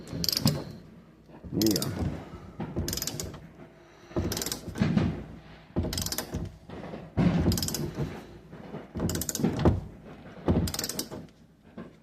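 A cylinder puller pulling a door lock cylinder, with repeated ratcheting mechanical clicks in short bursts about every second. A person speaks briefly.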